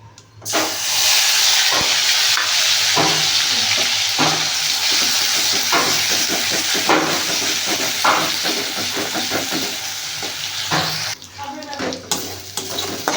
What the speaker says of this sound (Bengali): কালো জিরে আর শুকনো লঙ্কাটা একটু ভাজা হয়ে গেলে এবার দেব পেঁয়াজ বাটা।